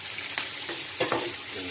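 Chili stirred while frying in a pan gives a dense, close sizzle, with a few quick scraping strokes from the stirring and no voices.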